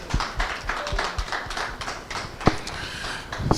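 An audience at a panel discussion on workplace disability inclusion in Nigeria claps, a dense patter of hand claps with a few sharper, louder slaps standing out, moderately close and sustained throughout.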